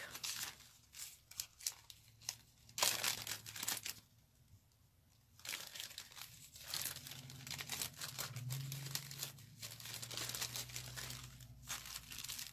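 A plastic bag crinkles and rustles in bursts of handling, close and moderately loud, with brief quieter pauses between the crumpling passages during card-making with stamping supplies.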